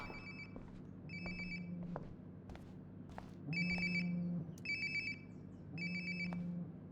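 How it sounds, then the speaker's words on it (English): A mobile phone rings in the video game Life is Strange: Before the Storm, a repeating electronic ringtone in short bursts with gaps between, fairly quiet, with faint footsteps and room noise. "Sounds like my phone is definitely nearby."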